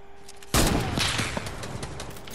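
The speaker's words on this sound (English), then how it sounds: "Okay, Gabe, let's shoot down every tree." Gunfire in the Fortnite video game opens suddenly with a loud blast, followed by a dense, sustained crackle of shots that carries on to the end.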